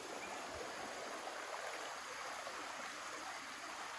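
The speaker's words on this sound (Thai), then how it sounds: "นู่นน้ำไหลยาวมาเลยนะพี่พี่ยาวไปนู่นเลย นู่น น้ำไหลแรงมาก" A stream running strongly beside a riverbank after rain, a dense, steady rushing of water that fills the whole stretch without a break and with no talk over it.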